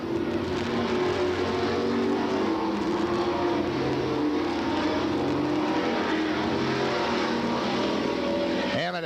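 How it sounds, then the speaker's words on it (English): A late model super stock race car roars down the main straightaway out of turn four at a 1993 oval race, a loud continuous engine drone with a rising pass near the end. "as he thunders out of turn number 4 down the main straightaway"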